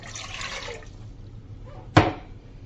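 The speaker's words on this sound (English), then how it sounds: "Start by adding the water," Water poured into a pot to start a stew for momo chutney, a broad rushing pour in the first second that tapers off, followed by a quieter pause and a sharp splash or clunk near the end.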